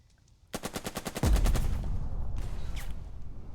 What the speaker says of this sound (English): They did shoot back, but they missed.